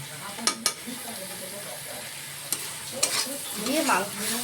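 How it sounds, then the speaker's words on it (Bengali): Spice paste for a Bengali crab curry sizzles softly as it is sautéed and stirred in a pan, with a few sharp utensil scrapes and taps against the metal. "দিয়ে ভালো করে আমরা এখানে মশলাটা ঠিক কষিয়ে নেবো 1 থেকে 2 মিনিটের মতন, যাতে কাঁচা গন্ধটা না থাকে।"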